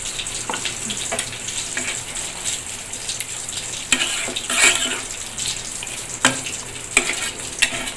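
Chicken roast sizzling in ghee in a pan on the stove, a steady close frying hiss with intermittent scraping and stirring clatter, brief louder bursts as the pieces are moved.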